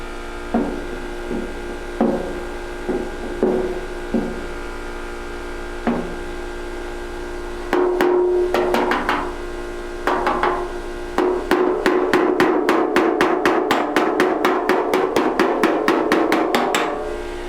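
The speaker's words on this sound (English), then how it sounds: "And that's called off dolly hammering." Auto body hammer strikes on a dented car panel ring out, scattered single taps at first, then a fast steady run of sharp off-dolly hits close by, with a faint hum underneath.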